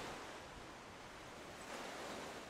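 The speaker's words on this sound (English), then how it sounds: "Look at the waves." Wind-driven waves wash steadily along the shore of the James River on a windy day, a continuous broadband surf rush with gusty wind noise over the microphone and no voices.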